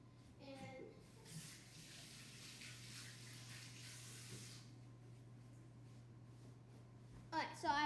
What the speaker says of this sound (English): So wash your hands now.